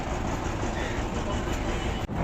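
Steady rumbling rail noise from a small toy train running along the pier at Elephanta Island near Mumbai, continuous and fairly loud throughout with a brief dip near the end.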